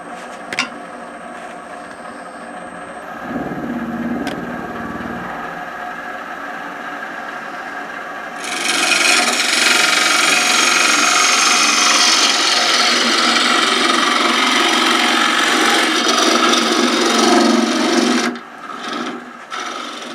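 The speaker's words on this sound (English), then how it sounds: "So basically we'll crack on and get the middle of this bowl turned away." A wooden bowl is turned on a lathe as a gouge cuts away the middle. A quiet motor hum at the start gives way to a loud, sustained rasping cut that stops near the end.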